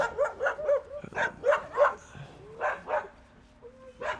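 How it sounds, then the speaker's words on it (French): Several dogs barking, including a greyhound, in a run of sharp, fairly close barks and yips in an irregular rhythm, with short pauses and no talk. "Oh, des chiens. Il y a des chiens. C'est le moment où vous entendez des bruits."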